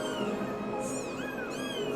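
Orphaned kittens mewing, whose mother cat was killed by a dog in the house; a few high, thin meows rise over a steady low background hum, fairly close.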